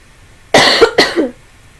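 Two quick, harsh coughs close to the microphone, back to back, then quiet.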